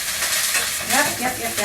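Eggplant frying in a pan gives a brief, bright sizzle with stirring scrapes, while a person says a short word.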